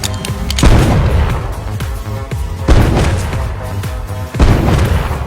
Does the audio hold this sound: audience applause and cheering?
no